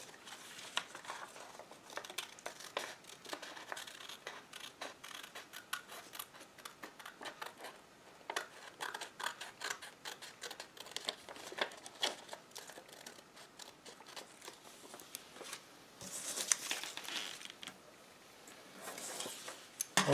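Scissors snip steadily through paper in quick, crisp cuts, close by and continuous with no talking.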